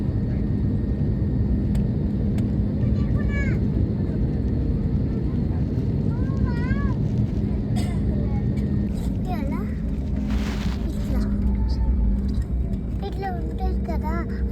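Airplane engines at an airport give a loud, steady, deep rumble that continues throughout, with voices talking over it.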